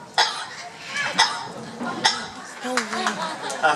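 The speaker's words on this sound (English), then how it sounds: "A few coughs should do it." A talking pet parrot gives a few short, sharp coughs in an irregular series, close and clear, mixed with faint chuckling and vocal sounds indoors.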